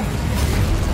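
An Incendio fire spell is cast in a Hogwarts video game, a dense roaring burst of flame that fills the whole second at a loud, even level.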